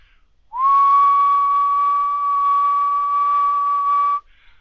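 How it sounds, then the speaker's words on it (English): A person whistles one pure, steady tone, loud and close, holding the same pitch for about three and a half seconds before stopping abruptly, with near silence before and after. "if I were to make a pure tone, and the best way for me to do that is to whistle"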